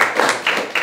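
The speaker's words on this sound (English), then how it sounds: "Please clap for him" A class claps for a student, a short burst of close, dense hand claps with uneven swells, alone and without talk.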